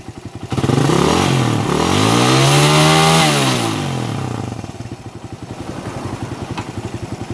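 Motorcycle engine revving up hard and holding at high pitch, then dropping back to a steady idle, loud and close with no talk.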